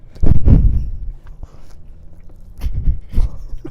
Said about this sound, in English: He is mid-chew.